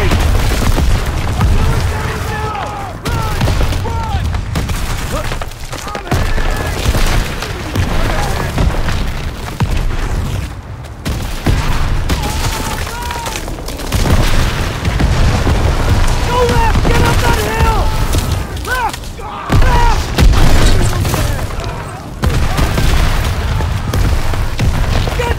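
Heavy World War II artillery fire and explosions thunder in a Call of Duty WWII battle, with repeated booms and a constant low rumble while soldiers shout urgently over the barrage.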